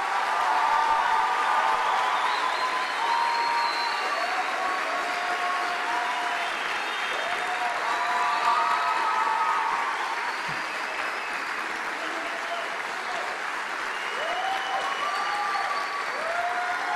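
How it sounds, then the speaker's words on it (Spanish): Warm, steady applause from a church congregation welcoming a couple, with scattered cheers and whistles over continuous clapping that fades slightly toward the end. "Un fuerte aplauso para esta pareja."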